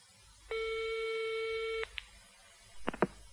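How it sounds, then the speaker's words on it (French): A telephone gives out a long steady electronic call tone lasting over a second, then a brief beep and a short burst of clicks, clear and close in an otherwise quiet background. "La secrétaire d'Éric Blanc téléphone à une agence de voyage."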